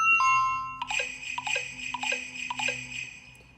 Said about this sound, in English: there's only 2 new doorbell ringtones for each theme